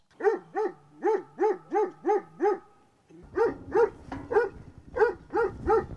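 Guard dogs at a villa bark at visitors in quick repeated bursts, a run of six evenly spaced barks, a short pause, then a rougher volley over background noise.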